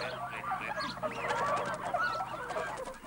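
A noisy crowd of waterbirds calls together, with honking Bewick's swans and squawking ducks and black-headed gulls overlapping constantly, close by.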